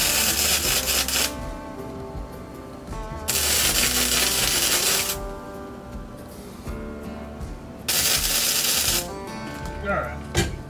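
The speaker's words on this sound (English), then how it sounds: "Now I'm just going to weld this one in quickly" A welder joins a piece of bash plate onto an RD1 Honda CR-V, giving three long bursts of harsh crackling hiss separated by short pauses, loud and close.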